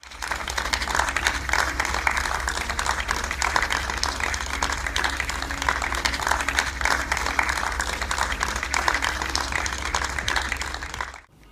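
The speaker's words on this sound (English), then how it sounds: "A round of applause from dignitaries and faculty members of GD" Dignitaries and faculty members applaud at a university convocation ceremony, a dense, sustained round of clapping that holds steady before stopping abruptly at the end.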